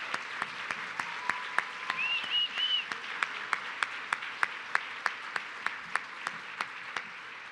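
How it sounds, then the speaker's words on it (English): An audience at a workforce forum applauds veterans. Soft, diffuse crowd clapping sits behind steady, sharp claps from one person close by, with a brief faint tone partway through. "Let's give them a round of applause."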